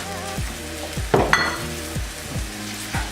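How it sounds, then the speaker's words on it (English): Flour being stirred into translucent fried onions in a hot pan to start a roux, with a steady sizzle and repeated scraping strokes of a utensil against the pan, close and distinct, plus a couple of sharper clinks. "I'm gonna put a little flour in here to make my gravy"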